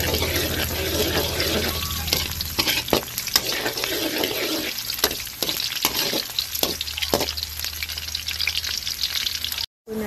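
Garlic and onion sauté in a pan with a steady close sizzle and frying crackle, stirred with occasional scraping clicks and knocks, running continuously without talk before a brief dropout near the end.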